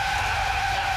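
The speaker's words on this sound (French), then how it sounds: "Mais on freine, Bob, Bob, on freine!" Tires squeal in a loud, sustained screech as a car brakes hard and skids, close and unbroken throughout with no voices.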